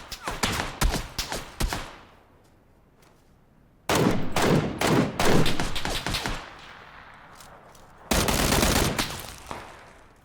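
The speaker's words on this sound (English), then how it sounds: "No, I'm getting shot from two sides." Gunfire in the video game PUBG: loud clusters of rapid automatic shots in three bursts, separated by quieter gaps with echoing tails, close and punchy.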